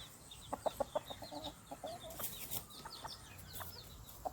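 Chickens on a small mixed farm keeping cows and poultry give a series of short, soft clucks and chirps in quick bursts, faint and fairly close, with no talking.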